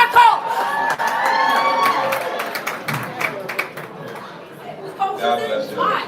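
A live crowd at an event in New Orleans cheers, whoops and claps steadily throughout, with children shouting among loud, overlapping voices and no single speaker standing out.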